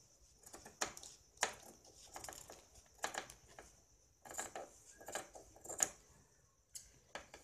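Scissors cut through blouse fabric during stitching in a series of crisp, irregular snips, close and moderately loud, with quiet pauses between them.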